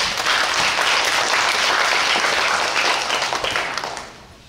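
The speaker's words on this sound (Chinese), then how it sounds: "我们掌声欢迎李教授" Sustained audience applause welcoming a lecturer to a talk on Taoist iconography at a museum, dense steady clapping from a large crowd that holds for about four seconds and then begins to fade.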